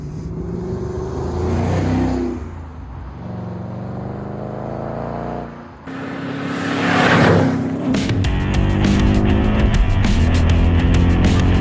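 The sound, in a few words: supercharged 2016 Ford Mustang driving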